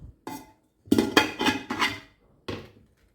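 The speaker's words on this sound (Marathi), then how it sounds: "कुकरमध्ये पाणी घालून पातेलं ठेवून घेते." A metal vessel set down inside a pressure cooker holding a little water gives a quick run of close, sharp metallic clanks and knocks, with a final clink after a short pause.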